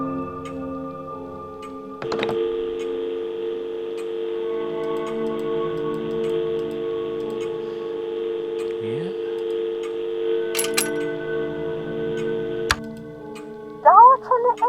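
A payphone in the video game Dark Fall Lost Souls, with a coin clunk followed by a long, steady dial tone, several clicks and dialing beeps, then a quick burst of tones near the end, quiet and close.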